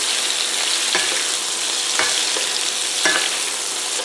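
Meatballs fry in oil in a pan with a steady, loud sizzle, while a few soft knocks and scrapes mark them being turned, close up and without talk.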